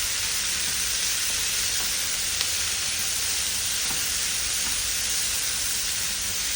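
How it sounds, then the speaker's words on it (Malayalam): Capsicum and chickpeas sauté in a pan for a side dish, giving a steady, close sizzling hiss with faint clicks of stirring throughout, no voices. "ഇത് നന്നായിട്ട് ഒരു 5 മിനിറ്റും കൂടെ സോട്ട് ചെയ്യുക."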